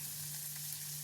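Onions sautéing in oil in a kadai for poori masala give a dense, even sizzle throughout, close and steady over a faint low hum.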